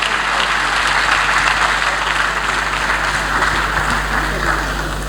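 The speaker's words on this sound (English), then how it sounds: "Let's keep the applause going, please." Sustained audience applause at a presidential investiture ceremony, dense continuous clapping filling a large hall at steady loudness, with voices faintly mixed in beneath.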